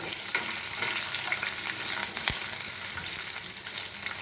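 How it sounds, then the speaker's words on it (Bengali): Cloves, cashews, ginger pieces and green and red chillies frying in a little oil, a dense, even sizzle up close with one sharp click midway and no talking. "লবঙ্গ দুটো কয়েকটা কাজু আর কয়েকটা আদার টুকরো আর তিনটে কাঁচা পাতা কাঁচা পাকা লঙ্কা একটু মশলাটা ভাজা ভাজা করে নেব"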